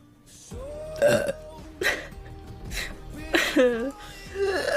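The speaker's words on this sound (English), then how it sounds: "Can I burp on command?" A woman lets out several loud, throaty burps on command, one after another with short gaps, interspersed with small vocal sounds and breaths.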